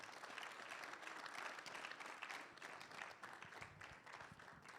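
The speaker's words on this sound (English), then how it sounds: "Please, let's keep the applause coming." An audience at an official report launch in Ghana applauds, a steady, dense wash of clapping that carries on evenly at moderate distance without a break.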